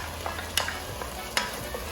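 Tomato sauce hits a hot pan in a shrimp spaghetti dish, giving a low steady sizzle with a couple of sharp stirring clicks, close and moderate in volume, no voices.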